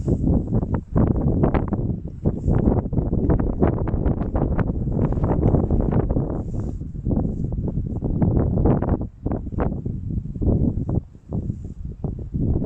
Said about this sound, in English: Just see the wind.